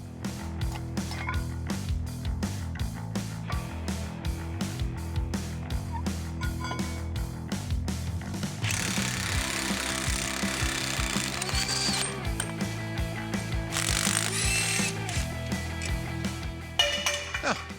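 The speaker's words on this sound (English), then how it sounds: "We'll start by taking the calipers and the rotors off, followed by the CV axle nut." Calipers, rotors and a CV axle nut being removed from a '96 Chevy Tahoe: repeated rapid ratchet clicks and power tool whirring, with bursts of impact wrench noise, in a steady working rhythm at close range.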